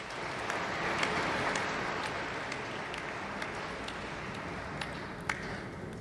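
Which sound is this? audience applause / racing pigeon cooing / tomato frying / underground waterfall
audience applause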